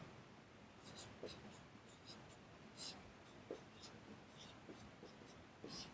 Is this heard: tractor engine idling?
no